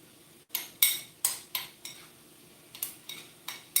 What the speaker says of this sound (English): Stirring my jalapenos again